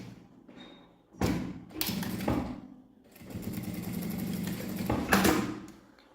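A sewing machine stitches fabric for a double phone holder, running in several loud bursts of steady mechanical whirring separated by short pauses and handling thumps, close by with no talk.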